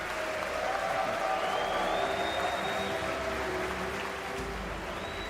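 Dense applause from a large crowd in the US Congress chamber fills the space, steady and sustained throughout, with a faint murmur of voices mixed in.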